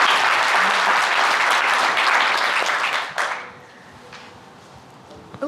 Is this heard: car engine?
no